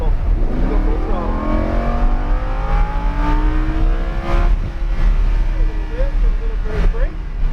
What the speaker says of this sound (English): you can start rolling that throttle. Go full throttle.